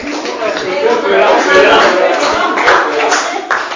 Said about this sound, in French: applaudissez pour le frère Constant.